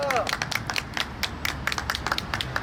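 Attendees clapping at an outdoor press conference in front of the Supreme Prosecutors' Office, with sharp, scattered claps in an uneven burst and some voices mixed in.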